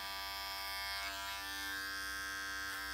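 Electric hair clippers buzz steadily and close up while cutting hair over a comb in a barbershop taper, a bright constant drone that shifts slightly in tone as the blades move.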